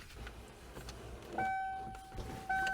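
A 1994 Ford Ranger's engine is turned over by the starter without firing, with two close bursts of steady mechanical whining, the second starting just before the end. Soft rustling fills the gaps between them, and no one speaks.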